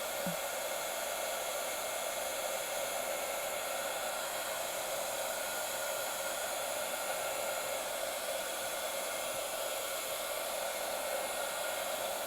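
A hair dryer blows steadily and loudly throughout, a constant broadband whoosh with no pauses or voices.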